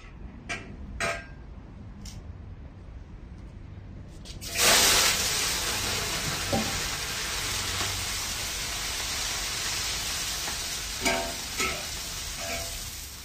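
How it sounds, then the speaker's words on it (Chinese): Vegetables being stir-fried in a hot wok, a loud steady sizzle bursting in after a quieter start, with scraping stirs and occasional clinks, close and continuous with no talking. "蔬菜炒完了，炒腊鱼"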